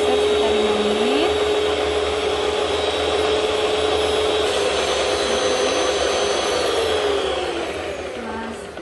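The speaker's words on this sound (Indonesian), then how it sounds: "Kita mixer sekitar 5 menit." Electric mixer beating cake batter for a spiced cinnamon cake, a loud continuous motor whir with a steady hum and slight pitch wobble, fading a little at the end.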